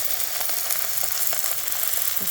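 Vietnamese bánh xèo batter sizzles and fries steadily in a hot pan, its edges crisping, with a dense continuous crackle close up and no voices.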